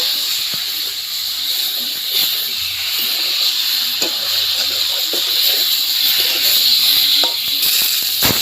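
Koi fish and potatoes fry and reduce in a pan, a loud, steady hiss and sputter running throughout with scattered small pops and no speech.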